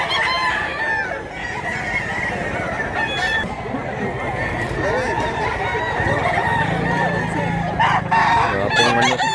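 Several roosters crow repeatedly at a busy chicken market in Mantalungon, Cebu, their calls overlapping with clucking and the murmur of a crowd, with voices talking nearby.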